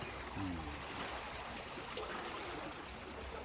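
Floodwater flows over rice fields after heavy rain, making a continuous broad rushing wash that stays steady and fairly near throughout.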